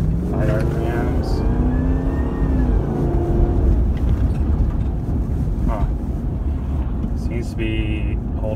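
The 4.7L V8 of a 2001 Jeep Grand Cherokee, which has a crankshaft and camshaft sensor fault, revving at high RPM. A steady, droning engine whine rises in pitch early on, and someone talks over it.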